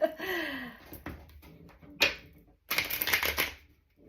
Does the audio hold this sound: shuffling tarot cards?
yes